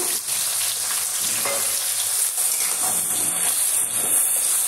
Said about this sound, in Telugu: ఇప్పుడు నేను బాగా వేయించుకోవాలండి